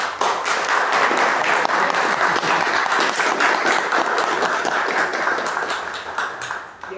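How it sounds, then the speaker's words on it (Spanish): An audience at a Paraguayan science fiction book event breaks into sustained, full applause, many hands clapping evenly before tapering slightly at the end. "Un aplauso para él, por favor."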